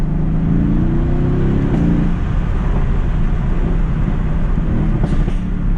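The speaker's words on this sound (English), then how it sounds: "Ooh, overall, this car sounds amazing." A loud Mercedes-AMG GT S engine, 515 hp, roars continuously at close range, its pitch climbing under acceleration, with a steady low rumble and road noise.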